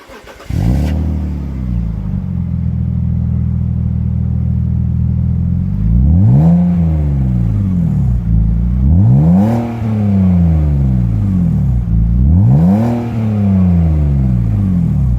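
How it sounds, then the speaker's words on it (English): A 2005 BMW 330ci ZHP fitted with a Vibrant exhaust idles steadily, then revs loudly three times in sharp, evenly spaced blips that rise and fall back to idle, close up with no talking. "this is the exhaust note of a 2005 BMW 330ci ZHP"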